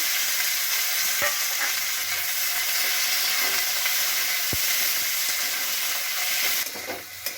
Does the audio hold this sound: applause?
no